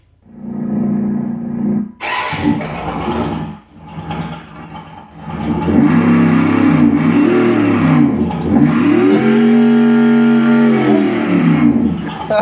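Simulated engine sound from the throttle sound switch on a MilePop 1 3000W electric motorbike, synthetic revs rising and falling in bursts, then a sustained loud rumbling drone with swooping pitch.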